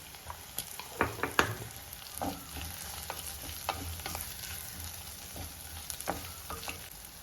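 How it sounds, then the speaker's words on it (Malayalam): Softened onions fry quietly with turmeric powder for a Kerala-style snake gourd curry, a low, even sizzle punctuated by sharp clacks and scrapes of stirring. "ഈ സമയം നമുക്കിതിലേക്ക് അല്പം മഞ്ഞൾപ്പൊടി ചേർത്ത് കൊടുക്കാം"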